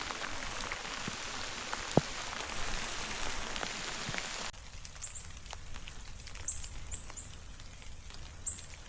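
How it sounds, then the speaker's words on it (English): Steady rain falls on a forest trail along the Suwannee River section of the Florida Trail, a dense hiss that eases partway through, leaving lighter patter with a few faint bird chirps. "And the rain's coming back again."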